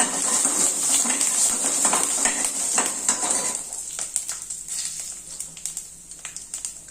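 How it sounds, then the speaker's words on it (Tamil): Mustard seeds pop and splutter in hot oil with a steady sizzle, and scattered crackles continue as the frying settles. "கடுகு வெடிக்குது"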